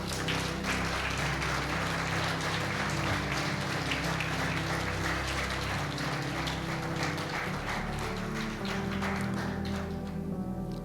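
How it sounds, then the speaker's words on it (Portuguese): A church congregation claps together during a Portuguese-language sermon, a thick continuous roar of many hands blended with sustained music underneath, steady and full for about ten seconds before thinning slightly at the end. "Você pode aplaudir o Senhor, irmãos?"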